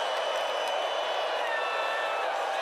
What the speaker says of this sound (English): The crowd amping up again.